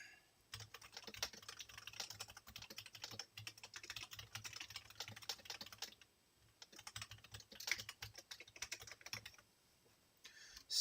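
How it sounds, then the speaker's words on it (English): Rapid clattering keystrokes on a computer keyboard come in quick bursts, with a short pause midway before the typing resumes. "Let me just finish typing something."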